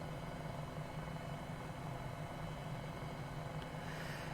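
MD500 helicopter in a flight simulator game drones steadily with a constant rotor and engine hum at moderate level, alone without talk.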